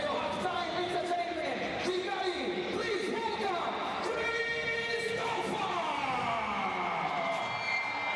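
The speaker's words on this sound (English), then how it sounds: "And he's going to get another cheer for the call to make it good." A basketball crowd at a FIBA World Cup qualifier between Cameroon and Rwanda roars in a loud, continuous wave of cheering and shouting that holds steady throughout.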